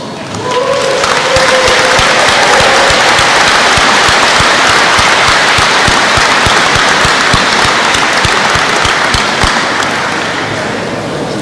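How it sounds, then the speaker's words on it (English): Loud, sustained applause from a large crowd at an Obion County Schools event, dense clapping that holds steady for several seconds before easing slightly at the end. "please stand up so we can give you a round of applause."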